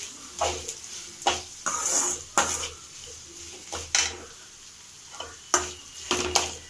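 Onion, ginger, garlic and green chili sautéing in a pan for a shark fish scramble: a low sizzle broken by repeated sharp scrapes and clinks of a metal spoon, spaced irregularly.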